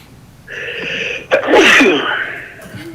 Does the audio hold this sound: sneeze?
yes